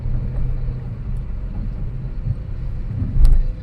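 A used car climbing a bridge in fourth gear, heard from inside as a steady low engine and road rumble with a brief louder swell near the end; no talking.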